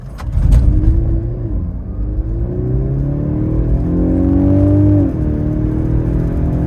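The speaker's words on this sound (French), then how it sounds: "je vous propose de faire un petit test d'accélération" A Mercedes C-Class 300e hybrid in sport mode accelerates hard on a closed road. Its engine drone rises steadily and loudly, climbs in pitch for several seconds, then drops abruptly near the end.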